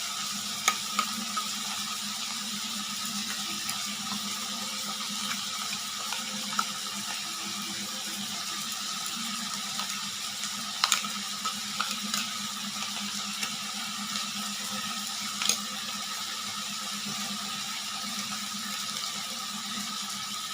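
Ginger, garlic and green chili paste sizzling with fried chicken in a pan, a steady, dense frying hiss that runs unbroken, with occasional small pops and clicks.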